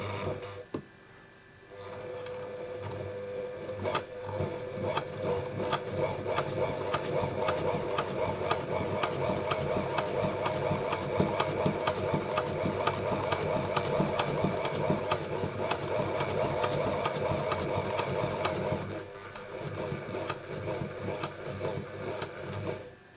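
A vintage Singer 201k sewing machine stitches through two layers of 10 oz leather, a steady mechanical hum with rapid ticking that starts after a brief pause, runs for about seventeen seconds, then stops.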